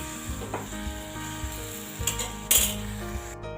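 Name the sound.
frying spice paste with pointed gourd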